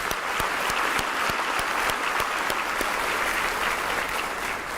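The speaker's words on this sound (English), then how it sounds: "Let's give them a round of applause." A crowd applauds first-generation graduates at a school district address, steady dense clapping filling the room throughout with no talk.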